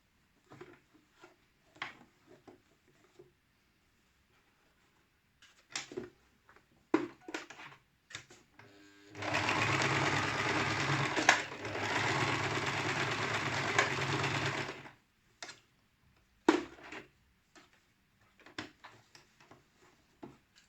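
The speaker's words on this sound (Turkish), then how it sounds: "Şimdi sonuncu parçamı dikiyorum." A Singer household sewing machine stitches cord into a table runner, running in one steady loud burst of several seconds, framed before and after by scattered handling clicks and taps.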